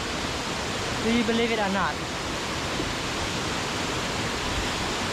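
A waterfall in Cambodia roars as a loud, steady wash of broadband noise throughout, with a voice briefly speaking over it near the start.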